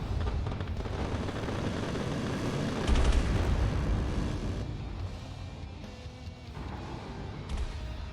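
Missiles launching and detonating in the space combat game Starcore, a dense, loud rumbling barrage of blasts and roaring bursts that swells and eases without pause over several seconds.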